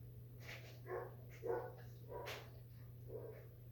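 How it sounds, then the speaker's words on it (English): A dog barks in the background of a home, a few faint, scattered barks over a steady low hum. "There goes my dog barking its head off."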